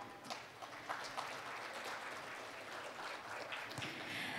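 Soft, distant applause from a conference audience in a large forum hall, thanking a robotics company CEO after a special lecture. The clapping stays faint and even throughout.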